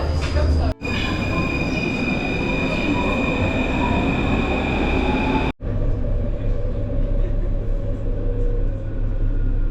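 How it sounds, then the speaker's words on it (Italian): Paris Metro line 2 train riding along, a loud continuous rumble with rail screech and hum inside the carriage, briefly dropping out twice, with faint talk in the background. "prendiamo la metro 2 che ci porta di nuovo vicino all'Arco di Trionfo"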